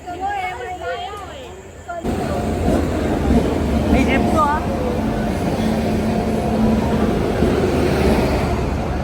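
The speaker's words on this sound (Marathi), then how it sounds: "ट्रेन आलेली आहे" An LTT–Thivim special passenger train arrives at a railway station in Sindhudurg. Voices come first, then a loud, steady rumble of rolling wagons fills the rest of the clip, with station noise around it.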